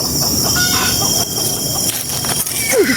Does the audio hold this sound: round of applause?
no